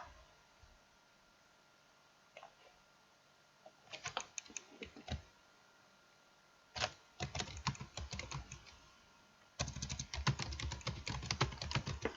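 Fingers typing a file name on a computer keyboard, in bursts of quick close clicks separated by pauses, with the bursts getting denser toward the end over a faint hiss.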